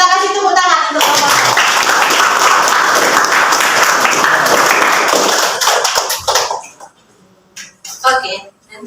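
Classroom applause for a student group after a presentation: a full burst of clapping that holds steady for several seconds, then thins into scattered claps and fades, with children's voices heard at the start and end.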